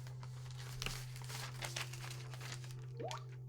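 Soft paper rustling and crinkling, close by, with a few brief louder handling noises over a steady low hum.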